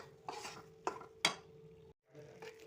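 Besan being roasted in a generous amount of ghee in a pan, with a spoon repeatedly stirring and scraping, giving a few sharp clinks of utensil on metal over a soft, steady sizzle, close and fairly quiet.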